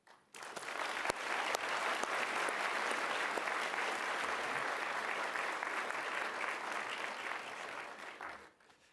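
Lecture hall audience at a mathematics talk by Terence Tao breaking into sustained applause to welcome him, a dense steady clapping wash lasting about eight seconds before fading out.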